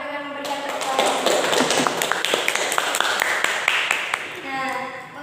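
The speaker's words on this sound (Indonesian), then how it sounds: "Untuk itu kita beri aplaus kepada kita semua dengan memberikan tepuk tangan" An audience claps steadily throughout a school class session, a dense patter of hand clapping with voices mixed in.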